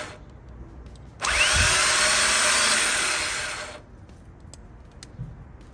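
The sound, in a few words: Harley motor cranked by jumped starter on bench test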